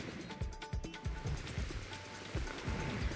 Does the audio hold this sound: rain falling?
yes